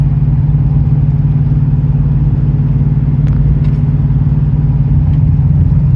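A GMC truck with a 6.6-liter gas engine and 10-speed automatic drones steadily while towing a Big Horn fifth-wheel trailer, a constant low in-cab engine hum with faint clicks and no talking.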